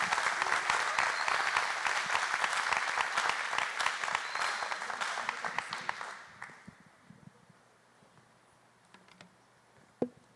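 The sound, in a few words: applause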